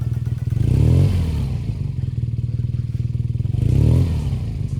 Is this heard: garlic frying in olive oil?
no